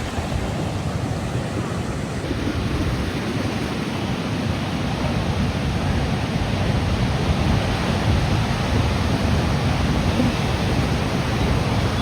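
Rough seawater surges onto a beach in Kozhikode, a dense, unbroken roar of crashing surf filling the scene at steady loudness throughout.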